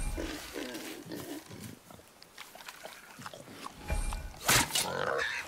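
A wild boar in the video game God of War grunts and snorts over intermittent speech, with a louder squealing burst near the end.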